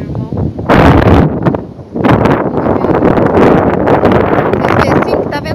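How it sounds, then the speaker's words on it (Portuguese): Gusty wind buffets the microphone in loud low rumbles, with people talking nearby underneath. "Esqueci que tá ventando."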